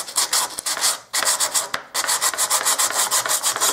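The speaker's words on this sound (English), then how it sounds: "So I've got my sandpaper here, and this is just a piece of 80 grit." Steady back-and-forth rasping of 80-grit sandpaper on a small piece of wood, close and loud, in rhythmic strokes with a brief pause midway.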